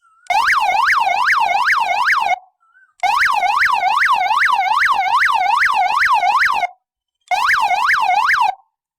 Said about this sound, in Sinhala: දෙවෙනි එක siren එක.